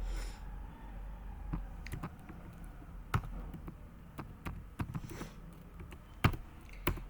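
Typing on a computer keyboard during a Node.js backend coding lecture: scattered, irregular close key clicks and taps of varying loudness over a quiet room background, with no talking.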